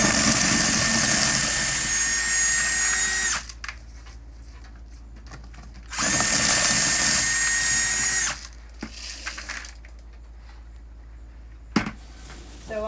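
A corn shelling machine running in loud, steady whining bursts of about three seconds, stopping between runs, with quieter rattling and handling noises in the gaps and a sharp clack near the end.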